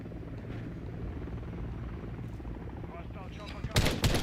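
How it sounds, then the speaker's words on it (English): A hostile helicopter in Call of Duty Modern Warfare III hums with a steady rotor drone amid distant battle noise, ending in a sudden loud burst of gunfire. "Hostile chopper coming."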